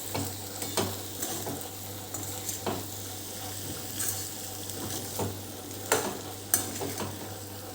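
Dry chole chickpeas with garam masala are stirred in a pan, with a soft sizzle and a spoon scraping and tapping the pan at intervals, fairly quiet and close.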